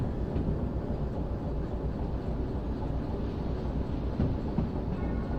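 A train in the video game Derail Valley coasts downhill, giving a steady, loud low rumble of rolling wheels and rail noise with faint clanks throughout, and no voices.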